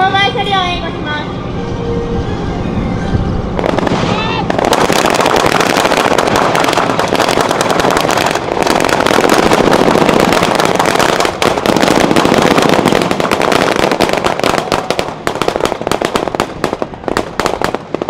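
Japan Ground Self-Defense Force troops fire weapons in a combat training demonstration at Kanazawa garrison's 73rd anniversary event, with loud, dense rapid gunfire that runs almost continuously after a quieter start, under announcer narration.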